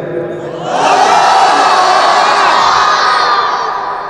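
A large crowd at an Islamic religious sermon roars a takbir together, a loud, sustained mass shout that swells after a brief murmur and holds strongly for several seconds before easing.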